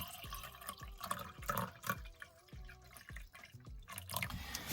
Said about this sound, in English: Well, just fill up your coffee cup.